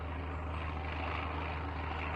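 An airplane passes overhead in the survival video game SurrounDead, a steady, fairly quiet propeller-engine drone holding level throughout with no talk over it.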